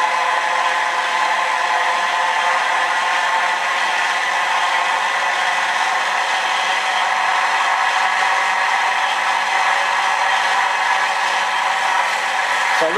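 A small electric motor with brushes and bearings spins freely with no load, giving a steady, even whir that holds constant at close range for the whole stretch and then cuts off abruptly at the very end, with no talking.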